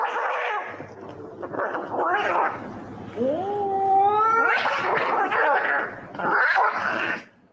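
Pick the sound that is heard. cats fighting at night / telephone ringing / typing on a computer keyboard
cats fighting at night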